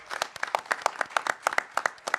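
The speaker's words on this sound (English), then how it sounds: "Give that a round of applause" A small panel audience claps. The individual hand claps are distinct, close and uneven in rhythm, a sparse patter of separate slaps rather than a roar, with nobody speaking over them.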